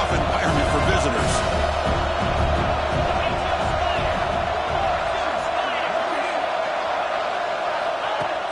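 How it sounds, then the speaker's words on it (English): A football video game's stadium crowd keeps up a steady roar of cheering and murmuring in the early going, continuous and fairly loud, with a commentator talking over it. "Listen to the crowd energy here in the early going."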